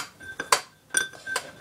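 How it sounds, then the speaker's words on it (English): Chopped veggies tumble into a small ceramic parakeet bowl in three quick clattering bursts, light clinks and knocks close by, with no talk. "you just want to dump all the veggies into their veggie bowl"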